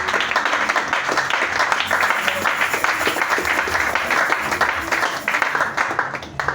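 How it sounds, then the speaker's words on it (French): A church congregation claps and cheers in praise, dense continuous applause filling the room at close range, with voices mixed into the clapping. "Acclamons très fort le Seigneur."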